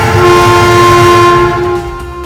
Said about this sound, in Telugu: దూరంలో రైలు వచ్చే శబ్దం వినపడింది.